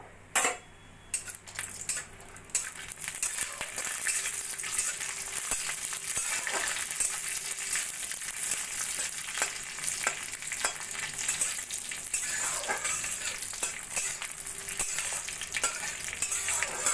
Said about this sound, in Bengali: প্রথমে আমি কয়েকটা কাজু কিশমিশ ভেজে নেব।